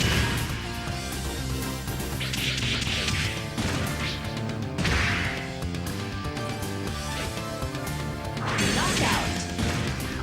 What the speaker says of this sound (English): I like the armor smashing mechanic in this game.